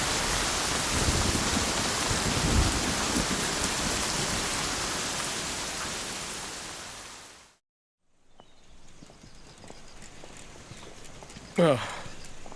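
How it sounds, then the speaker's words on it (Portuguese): Heavy thunderstorm rain pours loudly and steadily, then cuts off abruptly to near silence before quieter ambient sound returns, with a sharp brief knock near the end. "Pode ser que a chuva pare. Tempestades não costumam durar muito."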